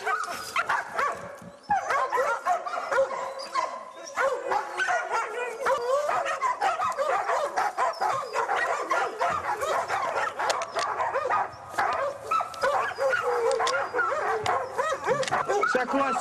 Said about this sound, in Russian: Собаки хорошо следят.